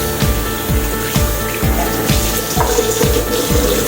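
Water pours from a tap at close range for soaking vegetables, with a fast, regular pulsing gush as it runs steadily into a basin.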